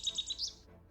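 A bird in the video game Kitty Found a Camera chirps loudly: a quick run of four or five bright, high tweets that then trails off, with no talking over it.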